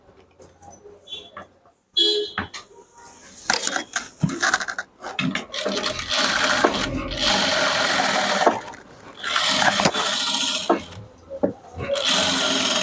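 Sewing machine stitching a chudidar top, running in loud sustained bursts with short pauses between seams, fairly close.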